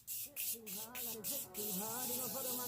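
Several short, loud hissing bursts of a Morphe setting spray mist being spritzed onto a face over pressed powder, evenly spaced, with a person talking continuously underneath.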